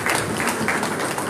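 Audience clapping during a church gathering, a short burst of steady applause at moderate distance.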